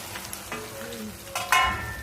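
Okra frying on low heat with cumin and fenugreek in a home kitchen pan, a gentle sizzle with scattered scraping and stirring knocks, including a louder scrape near the end, close and brief.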